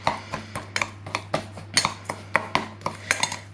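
Mustard powder and sugar rub for baby back ribs being mixed in a bowl, a quick series of close clinking taps and scrapes of a utensil against the dish in an uneven rhythm, no talking.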